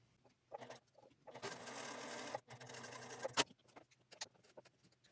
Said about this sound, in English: let's take this to the sewing machine